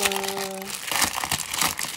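A plastic shoe bag crinkles and rustles in irregular bursts, close and fairly loud, after a brief tonal hum at the start.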